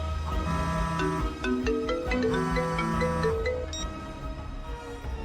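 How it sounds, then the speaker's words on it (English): A melodic phone ringtone plays for an incoming call, a clear sequence of bright electronic notes that repeats and then fades, loud and close with no talk over it. "just then she got a phone call from a friend."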